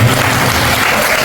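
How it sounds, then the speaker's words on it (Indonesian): Students at a new-student school orientation give a presenter a loud, dense burst of applause that fills the space steadily from start to finish. "Kasih tepuk tangan dulu buat pemateri putri"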